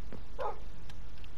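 A Minecraft dog gives a single short, sharp bark, one quick yip over a steady low background hum.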